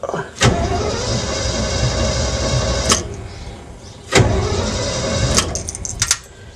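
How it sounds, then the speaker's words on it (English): A 1977 Superior/Ford B-700 school bus starter cranks in several separate bursts, each a loud whirring churn over a steady engine-bay hum, with sharp clicks between attempts. "the starter's going to crank"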